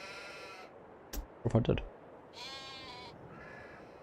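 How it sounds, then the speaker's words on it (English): Sheep bleating on a farm at Southern Cross Station, NSW, Australia: a few wavering bleats near the middle and end, set against steady outdoor background, with a brief burst of close talk in between. "Neglecting my sheep."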